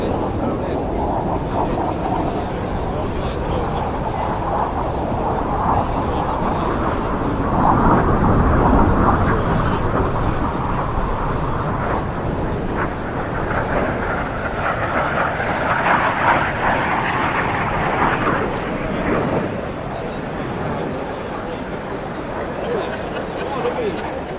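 Steady, broad jet roar from an F/A-18C fighter passing over an airfield, swelling and fading across the whole stretch with a loud continuous rush.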